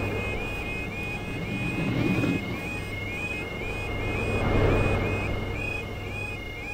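In a video game, a steady electronic level-crossing alarm repeats its beeping tone throughout while a heavy train rumbles past, swelling louder twice before fading.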